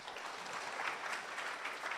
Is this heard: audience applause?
yes